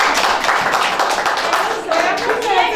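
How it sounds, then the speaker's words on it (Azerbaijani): An audience at a recitation masterclass breaks into a short burst of dense, close applause, with voices mixed in beneath the clapping. "Gəl alqışlayaq"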